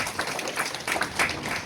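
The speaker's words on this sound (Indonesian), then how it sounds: "Tepuk tangan." Applause from an audience at a music video launch event, a short burst of clapping of moderate loudness with brief crowd murmur mixed in.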